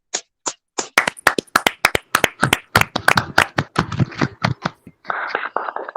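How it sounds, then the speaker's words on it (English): A small audience at a charity fundraising event claps for a performer after her song, starting with a few scattered claps that thicken into brisk, uneven clapping from several people nearby. "Can we clap for Tori?"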